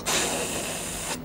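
A voice imitates a trolleybus rear door closing as one short, even hiss lasting about a second that starts and stops abruptly, moderately loud with no talking.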